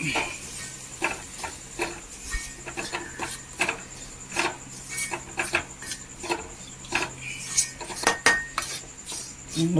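A spoon stirs roasted semolina in a pot, scraping and clinking against the metal in a steady rhythm of short strokes, close and fairly loud, with no talking.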